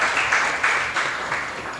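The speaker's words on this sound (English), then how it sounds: "Can we have a round of applause for him?" Audience applause at a round table discussion, a dense steady wash of many hands clapping together at fairly high volume, with no voices over it.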